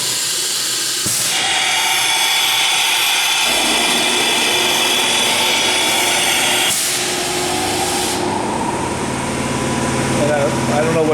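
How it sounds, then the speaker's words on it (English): A Milltronics RH 12 rigid-head CNC vertical bed mill runs an automatic tool change, a loud, steady mechanical hum broken by sudden hissing air bursts and shifts in motor pitch as the changer cycles. "Tool change coming up."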